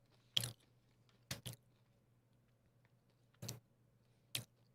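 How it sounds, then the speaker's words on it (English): A hollow puffed snack with holes crunches softly between the teeth in a few separate bites, one quick double crunch among them, close and quiet against a faint hum. "It has an okay soft crunch."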